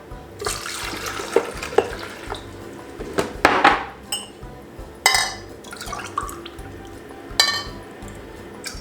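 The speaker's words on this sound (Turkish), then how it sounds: "Oraya suyu dolduruyorum." Water is poured into the reservoir of a Philips HD7462/20 filter coffee maker in a kitchen, with trickling and splashing broken by several sharp plastic clicks and knocks, close and moderately loud.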